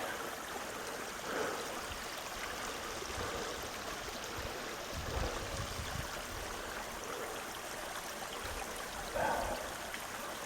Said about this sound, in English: That's another beautiful little waterfall, little freshwater runoff down in the creek.